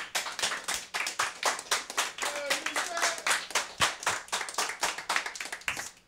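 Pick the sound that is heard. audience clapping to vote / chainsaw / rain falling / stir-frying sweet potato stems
audience clapping to vote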